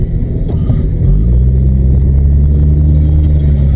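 A VW Vento with a recently repaired gearbox, engine running as the car pulls away, giving a loud, close, steady low rumble that deepens and settles into a continuous drone after the first second.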